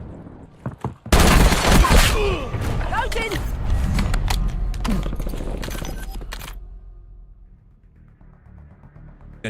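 Heavy automatic gunfire in Call of Duty: Warzone, a loud, dense volley that starts abruptly after a few single shots, then tapers off into quieter mechanical clatter.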